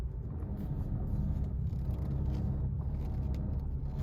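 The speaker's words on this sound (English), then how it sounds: "Hear that noise when I turn the steering wheel." A Porsche 911 997.2 makes a low, continuous rumbling and creaking noise from the front strut mount area as the steering wheel turns. The noise is steady, moderately quiet and close, with no voices.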